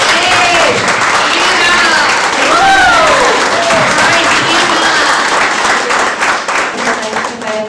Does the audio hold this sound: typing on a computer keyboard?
no